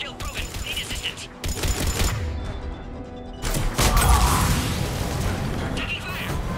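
Gunfire crackles through a Mass Effect 3 video game battle against Cerberus troops at a checkpoint, with dense, continuous bursts and volleys that swell louder midway and keep going without a break.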